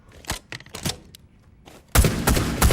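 Video game gunfire from a weapon fired with a shield: a few sparse shots come first, then a sustained, loud burst of rapid automatic fire fills the second half.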